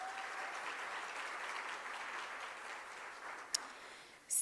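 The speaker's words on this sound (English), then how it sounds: "Please give yourself a round of applause." Applause rolls through the audience at a women's empowerment awards event, a steady, fairly soft patter of many hands with a couple of sharp sounds near the end.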